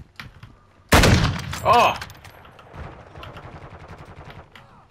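Gunfire in a shooting video game's Gun Game mode: a sudden loud shot and short burst, then fainter rhythmic firing in the background, with a brief exclamation from a player.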